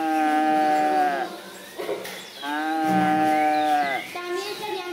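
Cows on a farm mooing, two long drawn-out lowing calls, loud and close, separated by a short pause.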